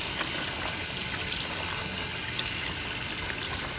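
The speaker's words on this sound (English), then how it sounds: "I'm going to rinse this roast off." Tap water gushes steadily while an oxtail roast is rinsed under it in a kitchen sink. The rushing stream is close and constant, with no talk.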